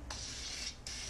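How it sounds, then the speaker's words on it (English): Two hissing bursts of canola oil cooking spray onto a pan, a long one followed by a short pause and a second spray, close and steady. "I spray my pan pretty literally."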